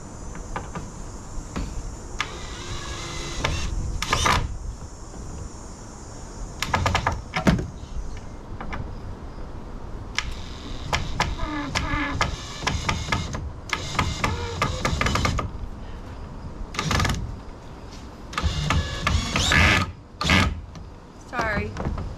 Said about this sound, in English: we're gonna just put 2 screws on either end